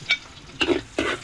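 Ingredients for pancit bihon sauté in hot oil in a pan, three short bursts of sizzling and stirring, each sharp hiss flaring and fading, close and without voices.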